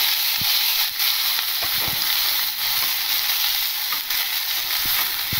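Cut potatoes frying in hot oil tempered with panch phoron for a samosa filling, a steady loud sizzle that holds throughout, broken by a few faint clicks and scrapes of stirring.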